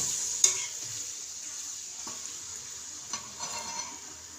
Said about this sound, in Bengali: তেল দিয়ে আর এই যে আদা রসুন দিয়ে একসাথে ভাজবো।